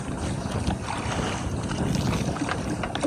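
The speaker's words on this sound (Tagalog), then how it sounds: "Kasi malakas yung hangin." Strong wind roars across the microphone out on a small fishing boat at sea, a steady low rumbling buffet with faint water sloshing beneath it, loud and unbroken throughout, with no voices.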